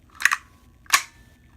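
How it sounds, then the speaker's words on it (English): A Krytac MK2 CRB airsoft gun gives two sharp, close metallic clicks about 0.7 seconds apart, each trailed by a faint ringing rattle of springs moving inside. "You can hear a lot of springs moving, and with guns, I like it to be very clean and crisp"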